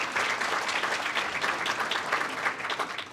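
A chamber of commerce annual meeting audience gives steady applause for its emerald sponsors, a moderately loud wash of many hands clapping at once for a few seconds.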